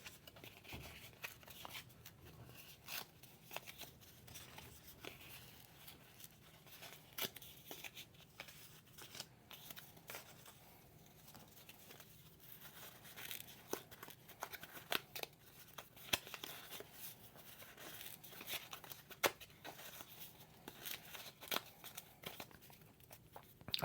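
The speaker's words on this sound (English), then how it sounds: "I'm just going to tear each one of these." Wax-paper packs of 1984 Trivia Battle game cards being torn open one after another, with soft crinkling, ripping and shuffling handled close up through a quiet room.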